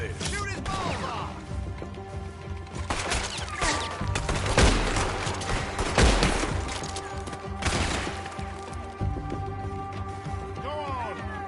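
A loud fusillade of gunshots in several bursts, some rapid like a machine gun, rising and falling across an action-scene soundscape with sustained background tones.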